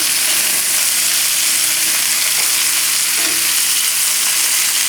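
Chicken pieces browning in hot olive oil in a pan over a high flame, a steady, loud, continuous sizzle and crackle with no talking.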